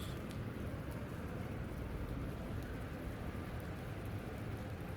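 Steady rain falls in a continuous, even hiss that holds without pause for the whole stretch, with no voices or other distinct sounds standing out.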